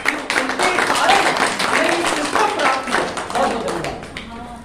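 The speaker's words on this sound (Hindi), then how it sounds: "एक बार जोरदार तालियां बजाएं" A crowd at a company gathering breaks into loud applause, with dense rapid clapping that carries on steadily throughout while a voice speaks over it.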